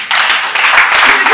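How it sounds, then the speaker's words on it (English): An audience breaks into applause, a dense burst of many hands clapping that carries on steadily and loudly throughout. "Let's clap for her."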